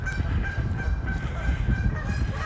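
A goose honks repeatedly at Wascana Lake in Regina on a snowy, slushy morning, loud and close, a continuous run of harsh calls over dense outdoor background noise, with no talking.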